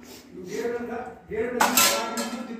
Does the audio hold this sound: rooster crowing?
no